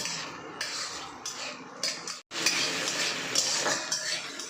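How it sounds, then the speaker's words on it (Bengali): A spoon stirs tomato chutney with a little water in a metal pan as it fries, making steady scraping and clinking with a soft sizzle. A short silent break splits it, and the stirring is close by with no voices. "জলের সঙ্গে সমস্ত কিছুটা একটু ভালো করে টানিয়ে নিয়ে ভেজে নেব"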